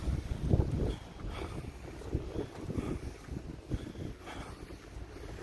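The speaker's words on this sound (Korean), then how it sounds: "바람 부는데 더웁다" Wind gusts buffet the microphone outdoors, making an uneven, rumbling low roar that rises and falls in close, blustery bursts.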